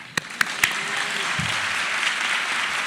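Audience applause at a Franklin Pierce University DPT hooding ceremony in New Hampshire, a few sharp claps swelling into steady broad clapping that continues evenly to the end.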